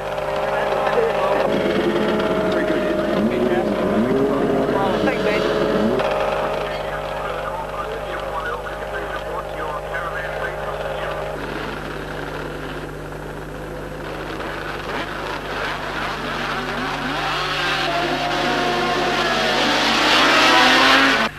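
Several 1976 superbikes racing off the grid at the Timaru circuit, engines revving loud and close, blending into a sustained multi-engine roar as the pack pulls away into the first corner.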